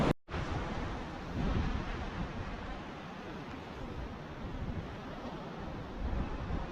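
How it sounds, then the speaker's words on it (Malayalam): Small sea waves wash at Miramar Beach in Goa, where the water is murky from a river outflow, forming a steady, fairly loud surf roar mixed with wind buffeting and no voices. "വലിയ തിരയൊന്നും കാണുന്നില്ല. ചെറിയ തിരയൊക്കെ ഉണ്ട്."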